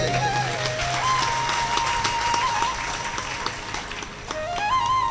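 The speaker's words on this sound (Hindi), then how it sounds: "अभी मेरे को किसी ने 1100 रुपए का दान किया, उनके लिए ताली बजाइए।" An audience claps in a sustained burst for an 1100-rupee donation during a Bhagwat Katha religious gathering, dense and even throughout, with devotional music playing underneath.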